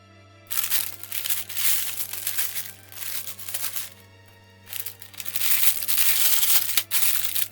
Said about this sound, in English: Crinkling sounds ahead. Warning to those who are sensitive about crinkling bags.